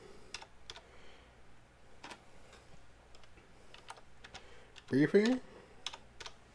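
Light, scattered typing on a computer keyboard recently splashed with water, sparse key clicks spread across several seconds with a short burst of a voice in the middle.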